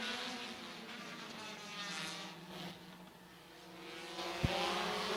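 Race cars in a close side-by-side battle for the lead at Midvale Speedway, a steady engine roar carrying through the clip with a broad, fairly distant drone that swells and eases as the cars work into turn three, plus one brief sharp knock.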